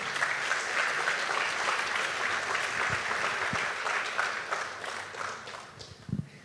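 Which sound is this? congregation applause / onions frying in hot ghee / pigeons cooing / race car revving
congregation applause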